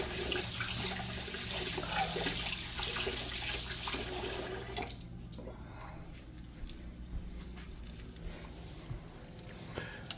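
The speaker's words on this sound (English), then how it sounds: "let me wash my hands right quick" A kitchen tap runs while hands are washed, a steady loud splashing rush for about five seconds before it drops to a quieter trickle and faint handling sounds.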